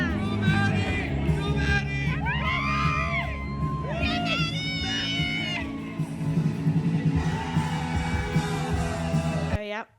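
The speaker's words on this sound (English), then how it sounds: "I actually captured the cheering" A concert crowd cheers and screams throughout, with high excited shrieks, whoops and general hubbub layered over a loud, continuous din that ends abruptly.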